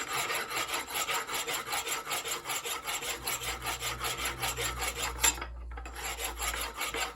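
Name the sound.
scraping dirt off a metal roller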